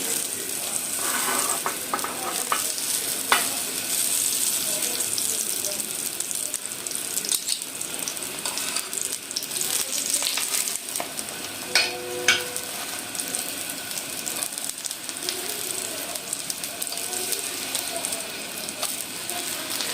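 A lachha paratha frying in ghee on a pan: a steady, fairly quiet crackling sizzle across the whole stretch, with a few brief clinks and scrapes near the middle, close by and without talk.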